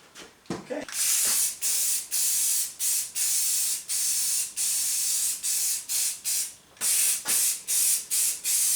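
A spray gun lays a coat of paint on a 1961 Cushman Truckster, a loud steady hiss broken by regular brief pauses as the sprayer stops and restarts.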